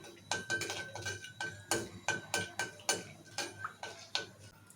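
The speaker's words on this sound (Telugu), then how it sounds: "ఈ మసాలా దినుసులు లైట్గా ఫ్రై అవ్వాలి" Whole spices, cardamom, stone flower, shahjeera and cinnamon, lightly frying in a pan for a chicken curry, heard as a steady run of sharp crackles and pops with a faint background hiss, close and fairly quiet.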